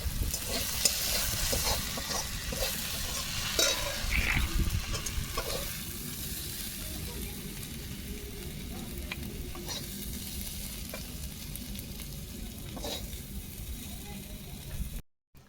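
Water spinach greens sizzling steadily in a hot pan, with irregular scrapes and clicks of stirring close by throughout and no talk.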